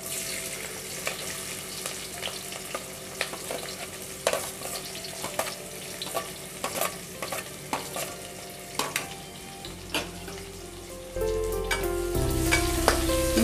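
Onions fry in a pan for moong dal khichdi, a low sizzle punctuated by regular sharp clicks of a spatula against the pan, close by; toward the end a tap runs loudly, and no one speaks.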